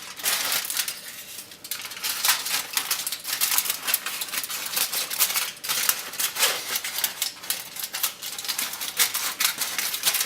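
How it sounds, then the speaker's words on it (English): Scissors cut a hole around a gas stove burner, a rapid, close run of crisp, crunchy snips that continues steadily, with no talking. "we get the scissors, and then we just cut"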